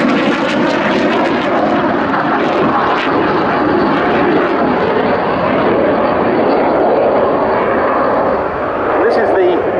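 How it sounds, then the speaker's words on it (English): A Saab JAS-39C Gripen, a single-engined jet with a Volvo Aero RM12 turbofan, flying at the Royal International Air Tattoo air show, producing a loud, continuous roaring engine rumble throughout, with a commentator talking over it. "Single-engined aircraft, this, like the F-16 we saw earlier, but unlike the Typhoon that we'll be seeing later, a Volvo Aero RM12 turbofan"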